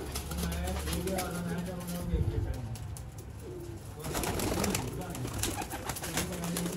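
Teddy pigeons kept in a pigeon loft, soft repeated cooing with a few chirps, partly under a voice talking nearby.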